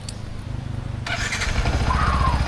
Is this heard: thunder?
no